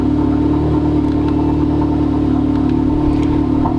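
An Audi S3 with a resonator delete runs steadily, giving a loud, close, even engine and exhaust drone with a low hum and no change in pitch throughout.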